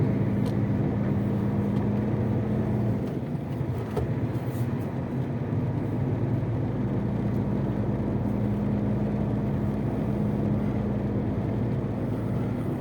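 A truck hauling a seven-ton load sets off on a long road trip, its engine a steady low drone with continuous road rumble throughout, fairly loud and close inside the cab, with no talk.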